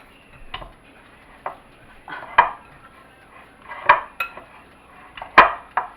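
Meatloaf mixture with egg is worked by hand or spoon in a bowl, giving soft, wet squishing with a few sharper knocks against the bowl at irregular intervals, close by and with no voices.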